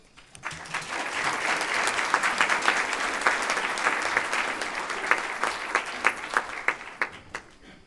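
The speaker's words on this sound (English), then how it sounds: "Give her another round of applause" A crowd at a Columbus Metropolitan Club forum breaks into applause for a speaker, rising quickly into sustained, full clapping from a large room, with sharper individual claps standing out near the end.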